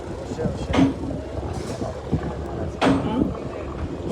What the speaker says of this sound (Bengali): এ লঞ্চ চলতেছে